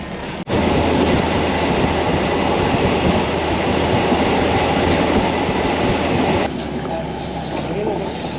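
A passenger train running from Bangkok to Ayutthaya rumbles loudly and continuously from inside the carriage, with dense clattering wheel noise that eases slightly near the end.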